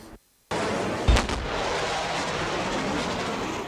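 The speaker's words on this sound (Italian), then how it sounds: "Si tratta del cosiddetto fenomeno del boom sonico provocato da un aereo." A single deep, sharp sonic boom from an aircraft bursts out after a moment of silence, followed by a sustained rumbling roar that slowly fades.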